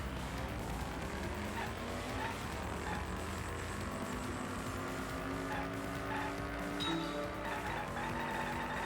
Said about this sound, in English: The way the car noises sound.